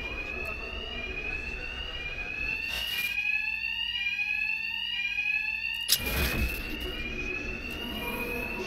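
Loud, continuous electronic alarm ringing in Batman: Arkham Knight, a shrill repeating tone that sounds throughout, with brief bursts of noise near the start and middle.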